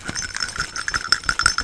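Small metal bells jingle and shake in quick irregular bursts, bright and close, with no voices.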